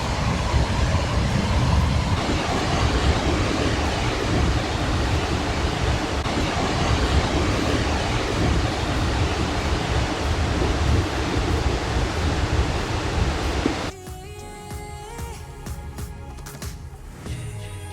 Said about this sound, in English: All of that water rushing down.